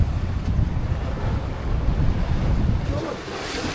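Steady roar of surf washing in on a Boracay beach, mixed with gusty wind buffeting the microphone, continuous and fairly loud throughout.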